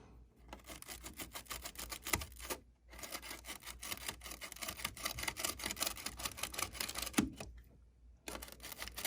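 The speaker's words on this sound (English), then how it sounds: "I gotta brush away this paint that's on here. So I'm using a distressing tool." Stiff distressing tool brushed over a model locomotive's painted surface, giving a steady close scratchy rasping with quick strokes, pausing briefly twice.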